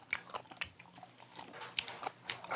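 Raw abalone and conch being chewed up close, a quiet series of wet, firm crunching bites and mastication clicks in an irregular rhythm, without speech.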